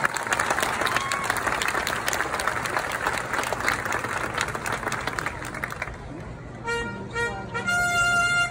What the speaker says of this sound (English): Applause for our young volunteers.